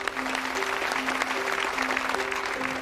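An audience claps at the opening of a chef competition on stage as a host invites a speaker up. The applause is a steady, moderate patter lasting a few seconds, with a faint sustained tone underneath.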